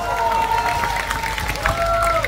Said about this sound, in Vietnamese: vỗ tay lớn hơn nữa mới đã à